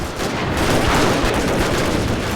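Cannon and Gatling gun fire in the video game Total War: Shogun 2, a loud, continuous roar of rapid gunfire and heavy blasts that fills the short stretch without pause.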